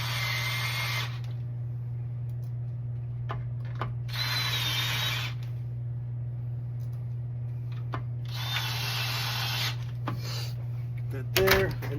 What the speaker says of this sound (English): we're going to start it with the drill just for ease of use